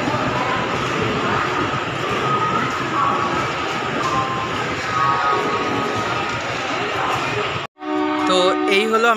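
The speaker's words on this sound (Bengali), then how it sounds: "আমাদের ট্রেন এখন ঢুকছে 7 নম্বর প্ল্যাটফর্মে।" The Howrah–Katihar Weekly Express pulls into platform 7 with a loud, continuous rumble and rattle of coaches. A brief dropout comes near the end, followed by quieter, mixed station noise.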